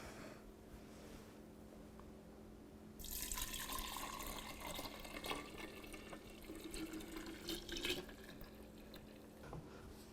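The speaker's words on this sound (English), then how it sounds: "now we're just gonna pour it into our jars that we put the vanilla beans in earlier" Homemade Kahlua coffee liqueur poured into jars holding vanilla beans, a steady close liquid pour starting partway in after a quiet stretch, with trickles and drips and no talk.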